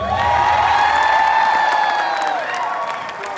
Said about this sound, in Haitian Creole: Applaudissements pour moi, pour Josifra.